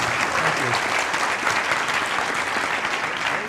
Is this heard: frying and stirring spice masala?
no